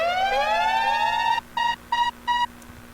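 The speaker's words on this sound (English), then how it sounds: "this is the siren, a normal siren" A standard siren sound effect: one loud rising wail that climbs and holds, then cuts to three short, evenly spaced pulsed bursts, with nothing else in the background.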